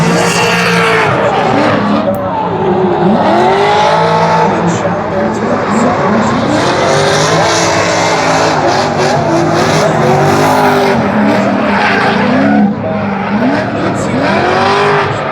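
A loud drift car engine revs and roars continuously as tires squeal and scrub, with the pitch rising and falling through the slides, during a drift qualifying round at Kern County Raceway.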